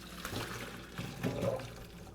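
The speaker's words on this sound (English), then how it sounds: "So next we're going to strain these." Cooked shrimp are poured into a strainer, giving a brief splashing rush of water draining away, fairly close and quiet.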